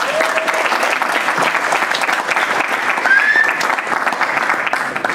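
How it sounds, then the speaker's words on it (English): Audience applause at a technical talk, sustained steady clapping from a room full of people, loud and continuous throughout with no voices over it. "Maybe give him a little round of applause."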